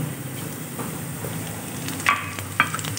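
Hot oil sizzles steadily at close range as cumin seeds go in, with a couple of sharper crackles and stirring clinks partway through.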